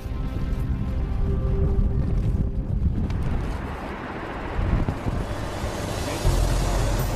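Strong wind buffeting a microphone at a tower construction site at the World Trade Center in Bahrain, a continuous loud roaring rumble with gusty surges and no speech.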